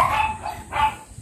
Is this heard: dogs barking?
yes